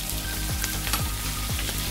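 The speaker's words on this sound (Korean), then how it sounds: "약간 이대로 튀겨야지." Shrimp heads frying in plenty of oil in a pan, giving a dense, continuous sizzle and crackle close up, with a few louder scraping stirs.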